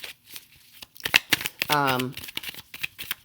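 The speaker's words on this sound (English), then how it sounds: "We're going to have Spirit bring a couple tarot cards out to get us started." Tarot cards are shuffled in quick papery riffles and flicks, close to the microphone, while a person talks over them.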